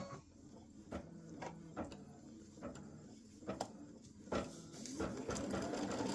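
An embroidery machine stitches the green section of a free-standing lace breast cancer awareness ribbon, a quiet steady mechanical whir with faint regular ticking and rattles.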